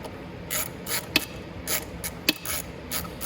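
Repeated ratchet clicks from tightening the chain tensioner on a 1000W electric ATV, the E-Racer, come in short bursts of pawl ticking with two sharper metallic clacks, close and moderately loud with no talk.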